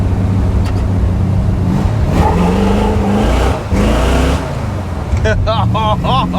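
A 1986 Jeep CJ7 engine rumbles loud and close, revving in a steady heavy drone with rises and dips, while someone speaks over it.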